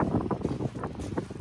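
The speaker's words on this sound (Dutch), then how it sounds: "want ik word niet goed van die wind in mijn oren de hele tijd" Steady wind buffets a microphone outdoors near water, a loud, continuous low rumble that swells and dips throughout without any voices.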